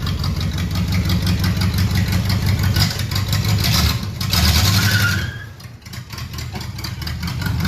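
An old vehicle running for the first time in 40 years, its tire spinning, gives a steady mid-pitched engine drone with rough idling texture that dips after about five seconds, then carries on more quietly.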